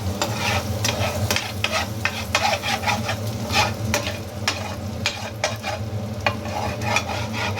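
Egg curry sizzles steadily in oil while a utensil stirs and scrapes the pan in frequent irregular strokes, a close, continuous frying hiss beneath the clicks, with no voices.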